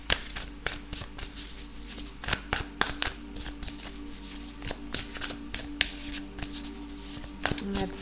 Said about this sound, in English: I'm gonna use my own deck and I'll pull a couple of cards from this.